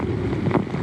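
Strong gusts from Tropical Storm Cristobal roar as a loud, rumbling wind that buffets the microphone steadily throughout.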